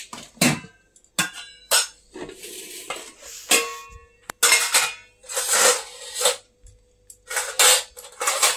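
Rice is served onto plates after a home-cooked Bengali meal, with spoons scraping and clinking against metal pots and plates in short repeated bursts, close by with quiet pauses between scoops.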